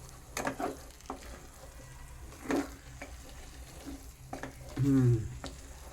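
Semolina upma is stirred slowly in ghee in a pan: a few scraping spoon strokes with soft frying sizzle between them, and a louder scrape near the end.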